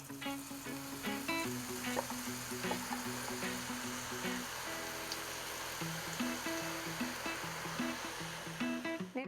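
Boondi batter drops sizzling in hot oil for motichoor ladoo, a steady frothy hiss and crackle running throughout, fairly close, with faint tonal music playing underneath.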